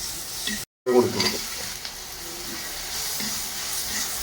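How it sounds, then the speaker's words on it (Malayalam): Tomato, shallots, ginger, garlic and green chili sauté in a pan for a prawn curry, with a continuous close sizzle and the scrape and clatter of stirring. A brief cut of silence comes near the start. "തക്കാളി കൊച്ചുള്ളി തക്കാളി ഇഞ്ചി വെളുത്തുള്ളി പച്ചമുളക് എല്ലാം കൂടി ഇട്ട് വഴറ്റുമാണ്"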